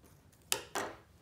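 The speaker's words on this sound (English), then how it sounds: "So now I am going to cut it off right here." Two quick snips of scissors cutting sewing thread after a slip stitch hem, crisp and close in a quiet room.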